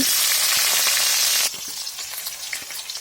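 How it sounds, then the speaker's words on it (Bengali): Chopped onions and panch phoron hitting hot oil in a kadai burst into a loud, dense sizzle for about a second and a half, then settle into a quieter crackle broken by clattering stir strokes. "দিয়ে দিলাম তেল, পাঁচফোড়ন, পেঁয়াজ কুচি"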